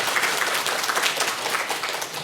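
A church congregation applauds together in a sustained burst of clapping that fills the room steadily before tapering slightly at the end.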